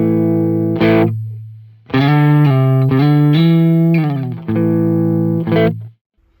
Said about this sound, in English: I have a preset here where I'm just running a dual Mesa Boogie Lone Star preset.